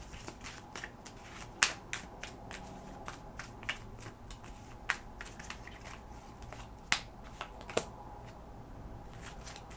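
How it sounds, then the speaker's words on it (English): Quick, crisp tarot card shuffling with a string of sharp riffling snaps at an uneven pace, close and fairly loud in a quiet room. "the shuffling can be loud"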